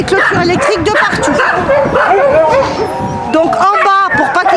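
A pack of husky sled dogs yips, barks and whines all at once in a loud, busy, close chorus with overlapping howl-like cries.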